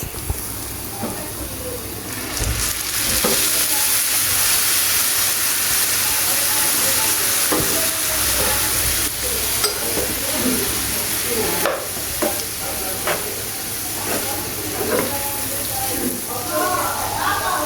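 Tomato sauce and soy sauce stirred into a hot pan for noodles, giving a loud continuous sizzle and hiss with scattered scraping strokes throughout, close and dense, with no clear talk over it.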